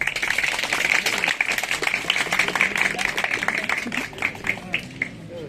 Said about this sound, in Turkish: Öncelikle onlara bir alkış alabilir miyim?